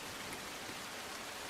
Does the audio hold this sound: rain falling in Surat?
yes